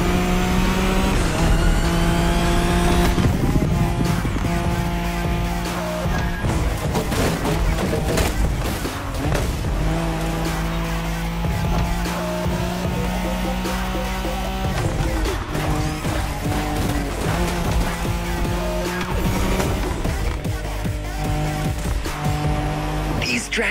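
Nissan Skyline race car in The Crew Motorfest roaring loudly at high revs with sustained engine drone, gear shifts and bursts of tire squeal over game music, with occasional impact noises.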